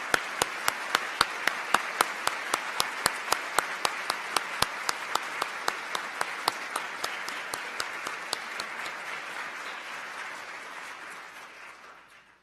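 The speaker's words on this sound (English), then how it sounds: "And let's give them a round of applause." An audience applauds guests during a national security address on Syria: a full room of sustained clapping, punctuated by sharp regular claps near the microphone, holding steady for about ten seconds before fading out.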